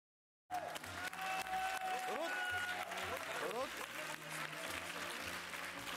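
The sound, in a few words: applause in the studio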